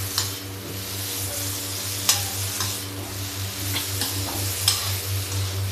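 Okra sizzles steadily in a frying pan while a utensil stirs it, with a few sharp scrapes and clicks against the metal over the constant close frying hiss.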